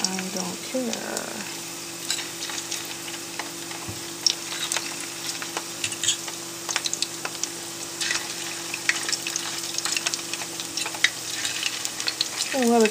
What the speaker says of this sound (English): I'll let it cook till at least the other side gets nice and brown